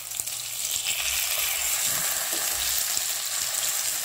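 Karimeen (pearl spot fish) frying in spicy masala, a steady bright sizzle of hot oil with faint stirring and spatter underneath, close and continuous without speech.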